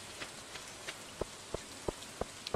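Rain falling in Stardew Valley, a soft steady hiss of rain with a series of sharper, regularly spaced drip-like taps, no voices.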